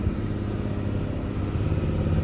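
Loaded truck in low gear labouring up a steep ghat road, its engine a steady, close, continuous low drone with no pauses and no voices.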